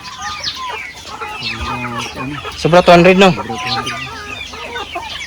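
Chickens at a farm with breeder stock cluck repeatedly nearby, a burst of louder squawking in the middle, while people talk over them.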